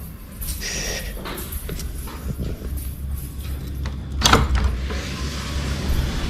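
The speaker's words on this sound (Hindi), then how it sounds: "चलिए खोलते हैं डोर" A front door unlatching and swinging open at home during a festival visit, with a rattle of metal mechanism and a brief louder clunk midway, close by over a steady low background hum.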